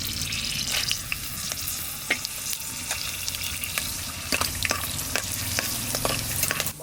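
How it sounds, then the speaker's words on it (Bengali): Whole spices (cumin seeds, bay leaves, dried red chillies, cloves, cinnamon, cardamom and black peppercorns) frying in hot oil, giving a continuous crackling sizzle punctuated by frequent sharp stirring taps, close and without speech. "দেখুন তেলটা গরম হয়েছে আর মশলাটাও ভাজা হয়েছে"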